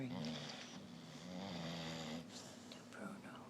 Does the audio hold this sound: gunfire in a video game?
no